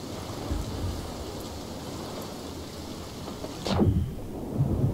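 Lightning crashes with a sharp crack and rumbling thunder in Sea of Thieves, breaking over a steady hiss of heavy rain, with a second low boom near the end.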